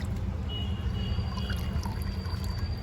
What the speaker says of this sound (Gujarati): નળ ચાલુ કરી દો